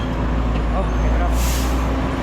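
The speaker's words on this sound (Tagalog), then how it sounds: "Oh, may truck." A truck on a busy Manila street in Tondo rumbles close by, with a sharp hiss of air brakes bursting out near the end over steady traffic noise.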